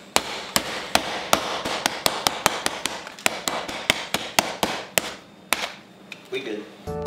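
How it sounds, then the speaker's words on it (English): Steady, sharp hammer blows strike repeatedly at a quick, even rhythm, loud and close, with a short pause and a brief voice near the end. "I'm legit gonna beat this with a hammer."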